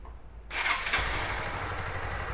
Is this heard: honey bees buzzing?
no